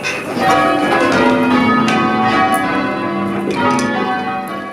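Church bells rung by bellringers peal continuously with overlapping, sustained tones, loud and close, with no voices.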